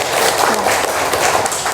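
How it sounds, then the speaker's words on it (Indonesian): Classroom students clapping for a classmate, a brief dense burst of applause lasting under two seconds. "Boleh kasih tepuk tangan untuk Salma?"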